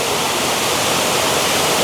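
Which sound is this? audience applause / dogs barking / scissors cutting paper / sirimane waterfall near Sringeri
sirimane waterfall near Sringeri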